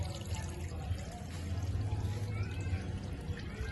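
Water is tipped out of a container holding eel seedlings being quarantined, a continuous close pouring and splashing rush that holds steady throughout with a low gurgle underneath.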